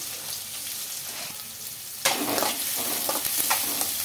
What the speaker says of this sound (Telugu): జీలకర్ర, ఆవాలు, అలాగే చిన్నగా కట్ చేసి పెట్టుకున్న ఆనియన్స్ అయితే వేస్తున్నానండి.